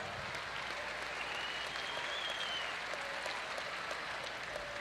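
Sustained applause from a crowd in a gym honoring veteran coaches at a state semifinal basketball game, steady and somewhat distant, with faint whistle-like tones and crowd murmur mixed in.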